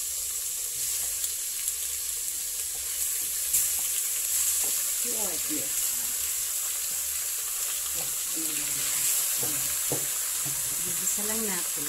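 Pork fries with softened onions in a pan for pork pochero, a constant close hissing sizzle with occasional stirring clatter, while a person talks intermittently over it.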